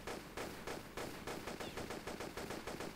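Rapid automatic gunfire from a guard in the Quest of Gold video game, a steady stream of sharp shots in quick rhythm lasting throughout, loud and close with no talk over it.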